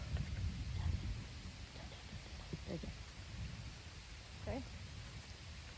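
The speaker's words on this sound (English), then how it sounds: "But I'm getting rained on." Steady rain falls on an outdoor fishing spot, a constant wash of drops with some low rumbling, while a person speaks briefly over it.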